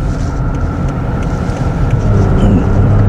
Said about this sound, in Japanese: このぐらいの段階でもうすでにエンジンがうーんって言っててスピードが上がってないのがよくわかります